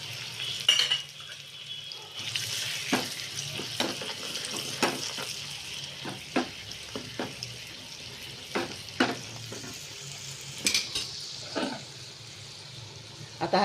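Tadka of chilli powder, coriander powder, turmeric and salt frying in hot oil, a soft continuous sizzle with repeated light scrapes and clinks of a spoon stirring in the pan, fairly quiet and close.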